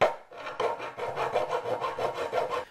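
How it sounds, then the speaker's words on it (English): Hacksaw cutting away sharp, smashed plastic edges on vacuum cleaner wheels, a steady run of rasping back-and-forth strokes about three per second, close and fairly loud with no talk. "So we're just going to take these out with a hacksaw."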